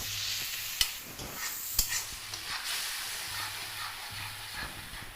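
Tomatoes fry in a pan for a ghugni dish, giving a steady soft sizzle and hiss with occasional stirring scrapes and two sharp clicks, with no talking.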